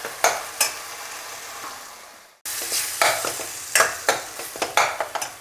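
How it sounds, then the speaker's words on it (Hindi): Onions and tomatoes sizzle in a pan for a dal palak tadka, with repeated close scraping stirs of a spoon over a steady frying hiss that pauses briefly midway, and no talking. "अब हम प्याज और टमाटर को अच्छी तरह से भूनेंगे।"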